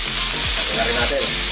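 Mushrooms hitting a hot frying pan for a burger steak with egg, giving a steady loud sizzle with a few brief stirring scrapes, no talking.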